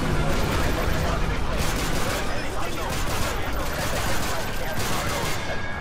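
Sustained gunfire in Call of Duty: Modern Warfare 3, including pistol shots, forming a loud, dense, unbroken barrage for several seconds, with voices faintly mixed underneath.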